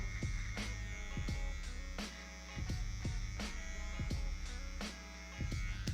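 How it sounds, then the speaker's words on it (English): Electric shaver buzzing continuously near the ear as it works over the neck area, a steady close drone broken by regular strokes and slight dips in loudness; no voices. "And now we're gonna get our shaver."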